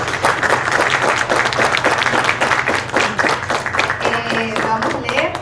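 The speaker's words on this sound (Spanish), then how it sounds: "Y la recibimos otra vez con un muy fuerte aplauso." An audience gives a loud, sustained round of applause for engineer Mariela Suazo at a recognition ceremony, dense clapping throughout, with a voice briefly audible near the end.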